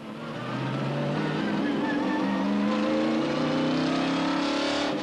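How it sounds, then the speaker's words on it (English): A stock car with a 750-horsepower engine accelerates on the Golden Gate Bridge, a loud, close engine note climbing steadily in pitch for about five seconds with no talk over it. "0 to 45 comes up quick with 750 horses under the hood"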